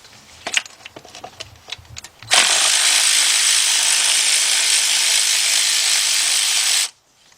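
A 10mm socket on a wobble extension works loose a bolt on a Ford Fiesta engine: a few light clicks and taps, then a loud continuous whirring rasp lasting about four and a half seconds that stops abruptly.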